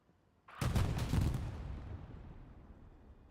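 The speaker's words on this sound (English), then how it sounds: "The first shot in by the Lost Legion boys, shooting them." A tank cannon fires in Hell Let Loose, one sudden loud blast whose rumbling echo slowly fades over the following seconds, with no talk.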